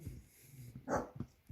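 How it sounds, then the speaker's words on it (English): A hound on an off-grid farm in Australia lets out a single short bark or yip close by amid quiet outdoor background. "Oh, here's a pesky hound."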